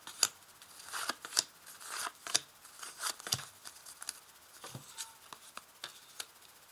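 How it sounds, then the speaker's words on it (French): Tarot cards being shuffled and laid out during a French-language Taurus reading: close, irregular snaps, flicks and rustles of card stock, with no talk. "je vais quand même ajouter des cartes"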